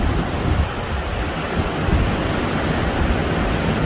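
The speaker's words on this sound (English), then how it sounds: "Can you tell that I missed the sound of the ocean?" Ocean surf breaks on a beach at high tide, a loud, steady, close roar of waves with wind buffeting the microphone. No voices are heard.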